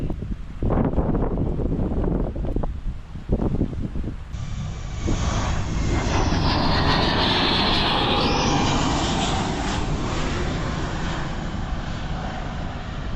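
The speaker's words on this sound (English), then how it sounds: "You're gonna enjoy this at the beach, watch some planes go by." A propeller aircraft engine drones loudly overhead at a beach in Indonesia, with heavy wind buffeting the microphone, the roar swelling as the plane passes and staying strong to the end.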